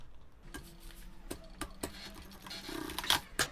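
Sewing machine stitching a seam on a thermal lunch bag, heard as quiet, close bursts of needle ticks and mechanical clicks in an uneven rhythm, with a short busier run near the end.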